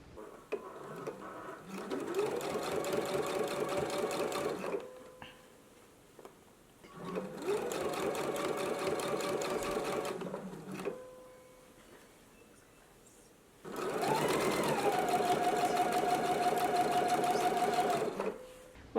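Sewing machine stitching in the ditch on a gingham dress, three sustained runs of rapid mechanical whirring separated by quiet pauses, close and clear with no talk.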